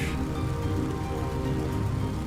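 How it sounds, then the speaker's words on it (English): Rain falls in Microsoft Flight Simulator 2024, heard aboard a Stearman biplane over the Mississippi River as a steady, dense patter hissing evenly throughout, with no voices. "Now look at the rain."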